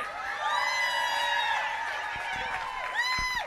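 Crowd cheering and whooping with high voices at Taraji P. Henson's Hollywood Walk of Fame ceremony, a sustained loud outdoor roar of shouts lasting throughout.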